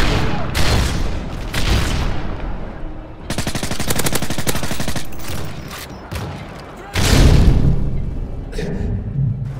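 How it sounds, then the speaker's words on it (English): Call of Duty MW3 combat with heavy booms and rapid gunfire bursts, ending in a deep loud explosion like a Predator missile strike, with faint voices underneath. "Predator missile inbound."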